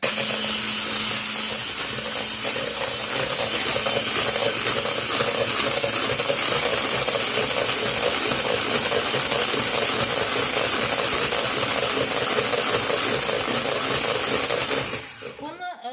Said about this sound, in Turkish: Şimdi öncelikle yumurta aklarını derin bir kaseye aldım. Çırpıyorum.